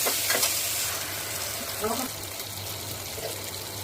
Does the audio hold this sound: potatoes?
yes